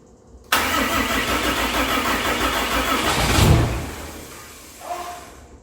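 A 600hp Cummins 6.7 diesel swapped into a hotshot truck cranks hard on a starting attempt, loud rapid starter churning for about three seconds, a brief catch, then winding down to quiet with a faint short rumble.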